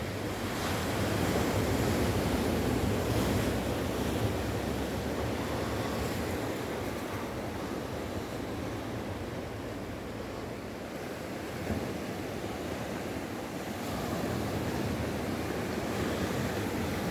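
Wild South Atlantic Ocean surf rolling in at Misty Cliffs on the Cape Peninsula near Cape Town, a steady, full roar of breaking waves with wind buffeting the microphone throughout, no voices.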